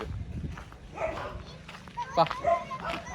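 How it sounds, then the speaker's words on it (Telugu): Dogs barking around a house, a few short barks and yips that rise near the end, mixed in with people talking nearby. "కుక్కలు"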